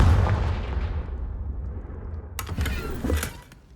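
Confringo fire spell in Hogwarts Legacy, a deep rumbling blast that fades out, followed by a burst of crackling fiery pops, loud and close.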